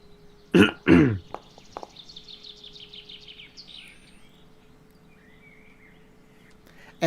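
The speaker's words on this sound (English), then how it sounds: "And those birds you hear, those are part of the map." Birds chirping as ambient background in a tabletop game map, light repeated high calls after two loud coughs or throat clears at the start.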